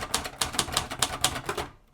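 Rapid clacking keystrokes of an antique Royal manual typewriter, about a dozen crisp strikes in quick rhythm, close and clear, trailing off at the end.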